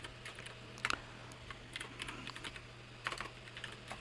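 Steady typing on a computer keyboard while writing HTML code in Notepad++, with irregular key taps and a few louder bursts of keystrokes over a low background hum, heard alone without talk.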